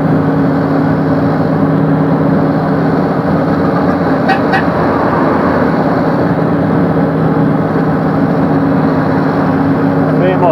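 A Mercedes-Benz 1935 truck descends a hill on engine braking, a loud, steady, droning engine hum holding an even pitch throughout, with someone talking over it.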